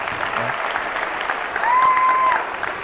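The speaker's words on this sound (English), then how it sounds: "Let's give her a real round of applause." An audience claps in a steady wash of applause lasting the whole clip, swelling slightly toward the end, with a faint tone sounding briefly over it.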